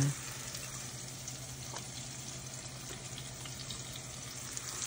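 Onions browning in oil in a kadai for a Nepali-style chicken gizzard and liver dish, a soft continuous sizzle and crackle heard close but fairly quiet, with no talk over it.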